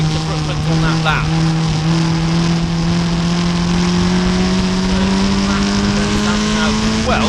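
Formula Ford race cars scream past at full throttle around Silverstone, a loud continuous engine whine rising steadily in pitch as they accelerate, with a commentator talking over the roar.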